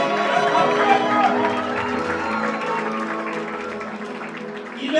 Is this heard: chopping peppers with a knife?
no